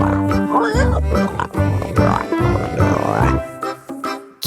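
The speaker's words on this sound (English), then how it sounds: "P for pig." A cartoon pig gives a run of loud, close grunting oinks in quick bursts, with voiced tones mixed in.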